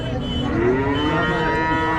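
A young HF (Holstein Friesian) calf moos loudly and steadily at a crowded cattle market in Sangola, with the drawn-out call set over a busy, noisy background.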